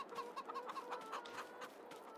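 Chickens cluck in a farm pen in the Farming Simulator 22 video game, a steady run of short, bright clucks repeating throughout at moderate loudness, with no talking.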